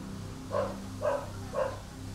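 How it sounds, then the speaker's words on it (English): Dogs barking in the background somewhere in Chiang Mai, Thailand: three evenly spaced barks, fairly distant and faint over a low ambient hum. "we got dogs barking in the background"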